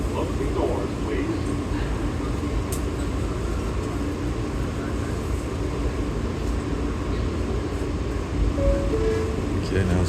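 Subway train pulling out of a station, a continuous low rumbling drone of the moving cars with steady hum throughout, a brief tonal whine near the end, and faint background voices.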